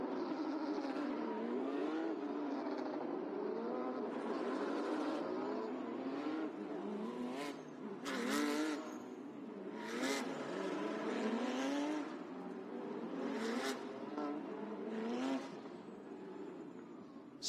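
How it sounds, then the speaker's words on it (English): Porsche Carrera Cup race cars roll onto the grid, with several engines droning and revving together and occasional sharper blips as cars pass nearby. "cars come onto the grid."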